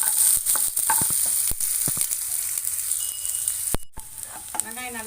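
Onions sizzle in hot oil after mustard seeds have popped, cooking for a South Indian drumstick masala curry, with a steady frying hiss, scattered sharp stirring clicks and a brief clatter of utensils near the end.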